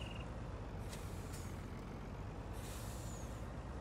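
A farm truck's trailer in Farming Simulator 19 is unhooked with a steady, loud air-brake hiss and a few faint high chirps, a continuous broad rush with no talk.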